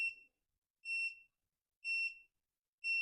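Right turn indicator on an Urban Glide Evo 85 electric scooter beeping in a steady rhythm, four clear high-pitched tones about one second apart, close and alone with silence between them.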